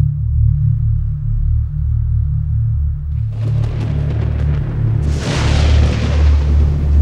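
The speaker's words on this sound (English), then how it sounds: "A medium-sized meteorite crashed into the Earth." Medium-sized meteorite impact explosion as a documentary sound effect: a steady low rumble builds into a sudden crackling burst, then a second, brighter roaring blast that stays loud and sustained to the end.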